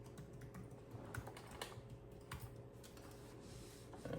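Computer keyboard keys tapped in a quick, uneven burst of typing a password, soft and close, with no voices.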